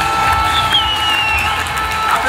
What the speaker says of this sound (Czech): pojď, zatleskáme.